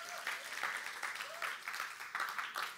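A church congregation claps for a stretch, a soft, even patter of applause with faint voices mixed in, fairly distant and low in level.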